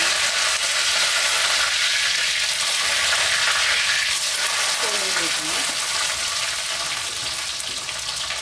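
Curry leaves hit hot oil in a pan that already holds fried fennel seeds for a Chettinad bitter gourd masala, raising a loud, steady, close sizzle that holds throughout.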